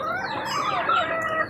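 Backyard pet chickens clucking and calling close by at watering time, a steady run of busy fowl sounds with no talking.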